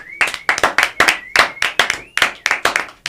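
Small studio audience at a 50th-episode show celebration clapping as a guest enters, a few people producing distinct, slightly uneven claps in close, bright bursts, no talk over it.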